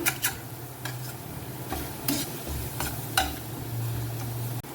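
Onion masala stirred in a pan after coriander powder is added, a low sizzle under repeated spoon scrapes and light clinks against the metal, close by.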